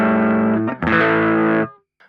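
A distorted electric guitar pushed by a booster for grit through a Kemper Profiler plays two sustained chords, the second struck hard and ringing before cutting off into silence.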